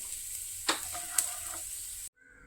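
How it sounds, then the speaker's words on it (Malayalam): Hot thalippu tempering poured into yogurt for thayir vada, a quiet hissing sizzle punctuated by two sharp pops, ending abruptly after about two seconds. "താളിപ്പ് തൈരിലേക്ക് ചേർത്ത് കൊടുക്കുക."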